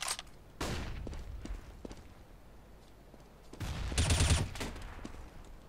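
A flashbang grenade thrown in Counter-Strike: Global Offensive, with a few sharp impacts early and a louder bright burst near the end, set among scattered game noise.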